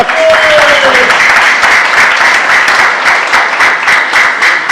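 A church youth congregation applauds during a sermon, with loud, dense, sustained clapping throughout and a brief tonal whine at the start.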